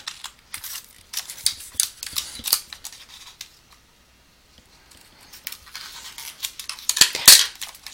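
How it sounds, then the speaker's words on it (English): Scissors snip paper down a folded crease, a series of close, crisp clipping cuts in irregular bursts with a brief pause midway and a sharper, louder snip near the end. "I want to take my scissors and cut down the middle, down the crease"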